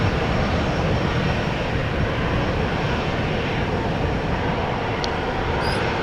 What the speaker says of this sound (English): And there is a 777 indeed getting started. 777-300 KLM flight 611 to Chicago. That was what we was hearing.